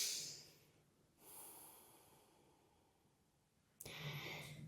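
A slow exhale during a yoga hip-opener flow, soft and close, with a second breath starting near the end of a quiet stretch.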